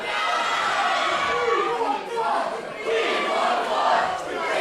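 A wrestling crowd at a COMBAT Vol. 7 bout between Chris Bronson and James Mason roars and chants steadily, a dense mass of voices rising and falling in waves, with a commentator talking over it.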